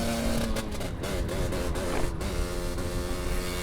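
A vehicle engine bogs down while driving in snow, a loud, continuous rough drone with wavering pitch and stuttering dips in power, close by, with no speech.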